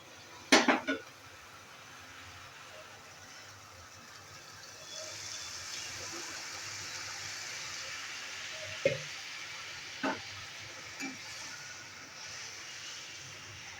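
Whole masoor lentils tipped into a pan of cooked tomatoes give a short rattling pour near the start, followed by a steady low sizzle and a few scattered clinks of a spoon against the pan.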